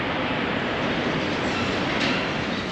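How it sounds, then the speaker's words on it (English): Train at a border crossing station just past Malaysian immigration, heard as a steady broad rumble with a faint rising swell near the end, close and continuous with no talking. "Just waiting for the train."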